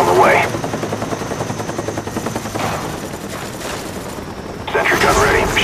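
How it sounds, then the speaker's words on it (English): Cobra attack helicopter arriving in the video game Black Ops, its rotor chop running steadily at game volume beneath dense rattling gunfire, with a second loud swell near the end. "Cobra on the way."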